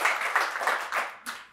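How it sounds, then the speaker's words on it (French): A conference audience applauds in a brief burst of clapping that pulses and fades, then flares once more before cutting off. "on peut l'applaudir"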